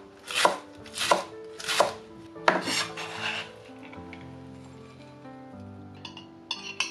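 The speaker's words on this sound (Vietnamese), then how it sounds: "Cắt cho thiệt là nhuyễn thôi luôn" Cilantro is chopped finely with a knife on a board: three or four crisp, evenly spaced chops, then a louder scrape and a lingering ringing tone, with faint clinks near the end.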